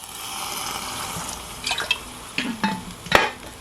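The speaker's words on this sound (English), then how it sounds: "I'm going to add just a little bit of water to it." Water poured into a stew of eggplant and summer vegetables cooking in a Nesco 4-quart roaster oven, a soft low wash with a few sharper splashes and stirring knocks near the end, close and fairly quiet.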